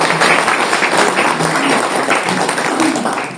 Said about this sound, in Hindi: इन लोगों के लिए तो आपको मेरे से भी ज़्यादा जोर से ताली बजानी।